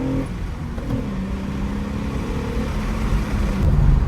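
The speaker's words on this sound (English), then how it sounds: "it's quiet, but you can hear the nice J-Series tone" An Acura with a J-Series V6 hums quietly while driving, a smooth steady engine tone with a low whir that swells slightly near the end, heard from inside the car with no talk.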